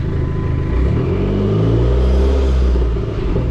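A Dodge SRT-4 pulls away in first gear with a loud, close engine roar that deepens and swells over a few seconds before easing slightly, steady rumble throughout with no talking.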